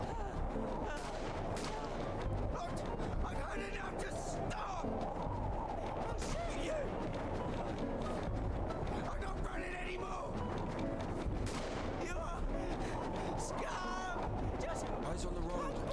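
Repeated gunfire in the video game INDIKA, a snowy setting with soldiers and a mechanized sled, with sharp shots scattered across the whole stretch and someone talking loudly over the shooting.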